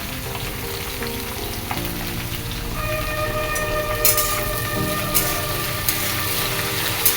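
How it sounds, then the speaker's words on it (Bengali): Cauliflower, potato and onion stalks frying in a pan with a steady, loud sizzle and crackle, plus occasional scrapes and clinks of stirring. "আর এই দিকে রান্না করছি ফুলকপি আলু পেঁয়াজকালি দিয়ে একটা ভাজা করছি"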